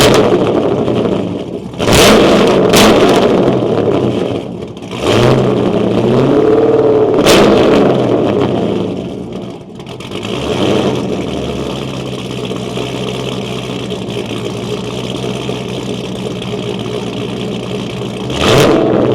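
A 1965 Chevrolet Impala SS exhaust barks and rumbles as the engine is revved several times in sharp bursts, settling into a deep, loping idle between blips.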